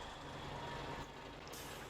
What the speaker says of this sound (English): I'm going to leave the truck right there and shut it off.